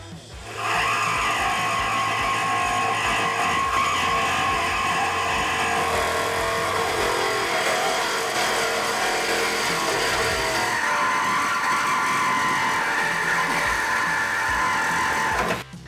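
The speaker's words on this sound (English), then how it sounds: "now we can grab our saw and make our cut" A power saw cuts steadily through the exhaust pipe of a 2018-2021 Mustang GT ahead of a C&L Sport axle-back install, giving a loud continuous grinding whine with a slight shift in pitch midway.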